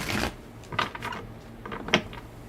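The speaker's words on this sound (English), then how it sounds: "One more shuffle here, guys." Tarot cards are shuffled close up in quiet bursts of papery riffling and soft flicks, a few short irregular clusters about half a second apart with near silence between.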